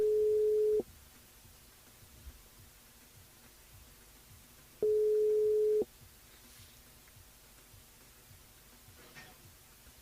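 A telephone line tone sounds on a call to a radio show listener: two steady beeps about four seconds apart, each lasting under a second, with quiet background between them.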